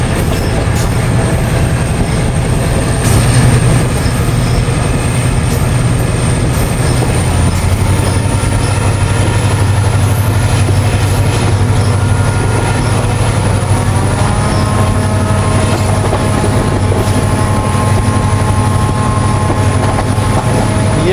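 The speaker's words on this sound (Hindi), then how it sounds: "ट्रेनें जो हैं एक्सीलरेट भी इसी कर्व से करती हैं" The Tezgam passenger train accelerates along a long curve, a loud continuous rumble of wheels on rail with a high sustained squeal, heard close from on board, with no voices.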